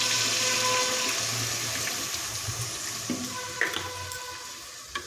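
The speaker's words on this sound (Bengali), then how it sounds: "এবার দিয়ে দেব পরিমাণ মতো জল।" Water pours steadily into a pan of fish curry with fried potatoes and pointed gourd, a continuous rushing splash that tapers slightly over several seconds, with a few small clinks near the end.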